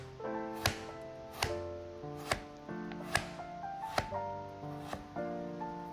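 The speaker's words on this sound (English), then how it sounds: "Slice a quarter of the lemon, keep the other quarter for juice later." A knife slices through a lemon on a cutting board in six crisp, evenly spaced chops, each a sharp knock against the board, close and clear with no talking.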